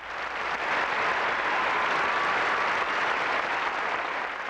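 Audience applause for Rev. Jesse Jackson in Seattle, a dense, continuous roar of many hands clapping, loud and even throughout with no voices standing out.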